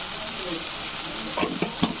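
Onion and tomato sautéing in oil for pav bhaji, a steady close sizzle and crackle with a few sharper clinks of a spoon stirring the pan near the end, no talking.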